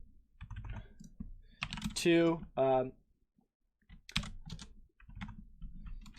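Clicky typing on a computer keyboard in a home office, keystrokes coming in short bursts and scattered taps, close and fairly loud, interleaved with a man's speech.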